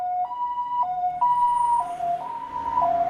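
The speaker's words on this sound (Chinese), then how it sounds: "有救护车" An ambulance siren wails in a two-tone hi-lo pattern, alternating evenly several times, fairly clear and steady at moderate distance with faint road noise beneath.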